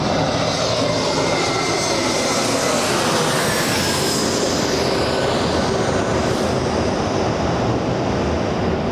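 A Qantas Boeing 787 Dreamliner on final approach at Los Angeles International Airport, its engines a loud, steady broadband roar that holds throughout with a slight rising whine near the middle.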